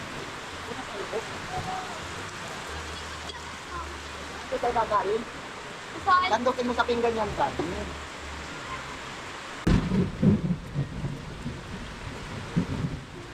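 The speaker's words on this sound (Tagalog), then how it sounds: "lakas-lakas ng ulan, oh" Steady heavy rain hisses in the background while people talk nearby in Filipino, with a sudden loud clatter partway through.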